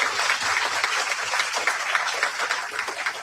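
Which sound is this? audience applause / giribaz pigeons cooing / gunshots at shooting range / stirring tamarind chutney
audience applause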